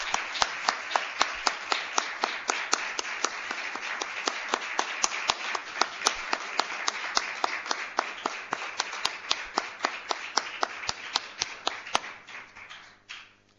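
Applause for a prize winner at a UNED university day ceremony, a fairly distant audience clapping steadily with sharp individual claps standing out at a regular pace, continuing for about twelve seconds before stopping.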